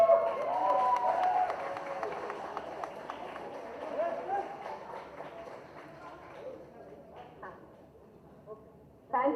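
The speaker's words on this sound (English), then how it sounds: "So, big clap for them. Big clap." An audience at the opening of a childhood cancer care centre claps and cheers for young cancer fighters: a loud burst of applause that gradually thins and fades out over several seconds.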